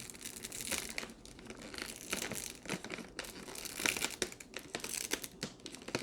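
Crinkling plastic of a resealable zipper bag holding organic white jasmine rice, close and continuous, with uneven crunches and rustles as the bag is handled, no voices.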